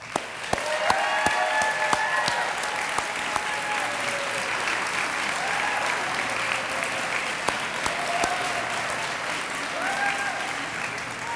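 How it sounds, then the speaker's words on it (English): A graduation audience applauds the faculty with a sustained, dense round of clapping that fills a large hall, steady and loud throughout with sharp individual claps standing out. "very well-deserving round of applause."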